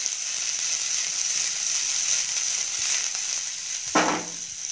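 Sliced okra fries in hot oil, a steady close sizzle running throughout, with a short louder burst of spattering and stirring near the end.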